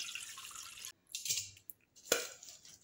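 Water is poured off soaked idli rava and urad dal in short bursts: a splashing trickle, a break, then a few quieter pours and a final sharper splash, close and fairly faint.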